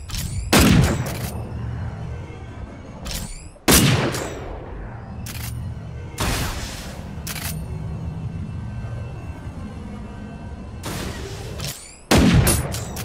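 Sharp, loud gunshots ring out in Super Fun Mechas, falling in spaced clusters of single and double blasts over a steady background rumble, each shot decaying with a short echo.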